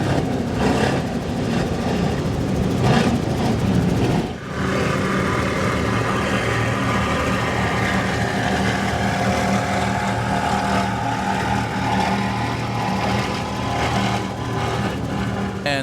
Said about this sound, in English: This is Stephen Woitkin in his 46-foot Outer Limits Big Power Mercury Racing 1075s.